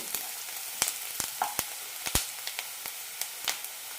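Onions fry in a pan for a chicken cabbage stir-fry, a continuous sizzle punctuated by a dozen sharp spatula scrapes and taps in an irregular rhythm, close by.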